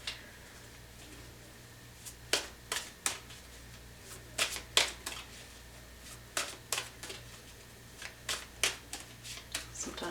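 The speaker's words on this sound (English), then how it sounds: "Sometimes I just feel like I need to shuffle" Tarot cards riffled and shuffled in repeated quick bursts, crisp papery flutters spaced a second or so apart over a low steady background hum.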